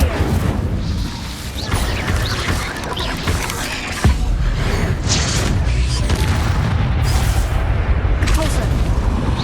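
Fire spells cast in combat in Hogwarts Legacy, sounding as loud whooshing blasts and booming impacts that repeat throughout amid dense battle noise, with a voice shouting incantations over them.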